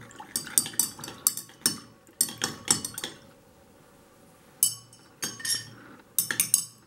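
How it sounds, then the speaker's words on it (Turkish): A spoon stirs rooting powder (IBA) into a mixture in a container, giving bursts of clinking and scraping against the sides, with short pauses between strokes, close and fairly quiet. "Daha sonra güzelce karıştırıyoruz."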